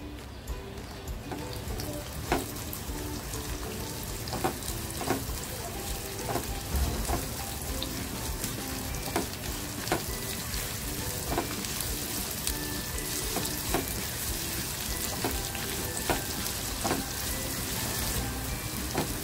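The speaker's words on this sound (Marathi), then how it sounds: "कांदा ना लालसर होईपर्यंत आपल्याला तो फ्राय करायचा आहे।" Sliced onion frying in oil for egg masala, a continuous close sizzle with light crackling pops and occasional stirring clicks.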